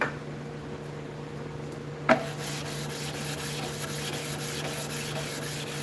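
A hand plane blade is sharpened on a 1000 grit stone, a steady rhythmic scraping and rubbing repeated back and forth up close, with one sharp click early on.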